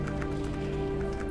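Steady rainfall patters on surfaces in the game Heavy Rain Remastered, a close, even hiss of drops with a faint low hum underneath and no talking.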